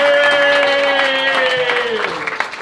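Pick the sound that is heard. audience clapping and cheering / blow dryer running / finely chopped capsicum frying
audience clapping and cheering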